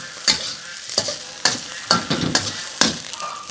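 Shrimp fried rice is stir-fried in a hot wok, with repeated scraping strokes of the spatula every half second over a soft, steady sizzle, close and clear.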